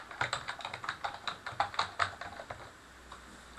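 Keys clatter on a computer keyboard as a school name is typed onto a document cover page, a quick run of close, crisp taps that trails off into quiet.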